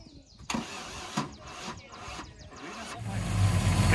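An old Land Rover engine cranks in repeated bursts of starter churning, then catches and rises into a loud, steady running rumble near the end, heard close up.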